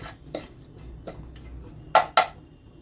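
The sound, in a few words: stirring and roasting semolina in a pan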